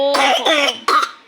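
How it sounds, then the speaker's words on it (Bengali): A child coughs three times in quick succession, close and fairly loud, with brief pauses between the harsh bursts. "আরও কাশি হইতেছে রে"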